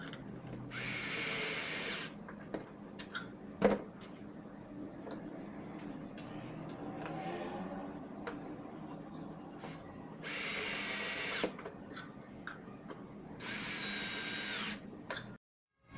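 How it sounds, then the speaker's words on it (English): A power drill drives 1-inch screws into melamine cabinet panels held in corner clamps: three loud, close whirring bursts of one to two seconds each, with quieter handling clicks and knocks between them. "we will insert the 1 inch long screws to make the join."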